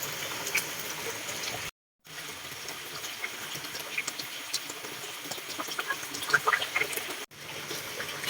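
Used oil drains from a Honda XRM 125 motorcycle in a steady, soft, liquid trickle and splatter, with two brief dropouts and faint sporadic clinks.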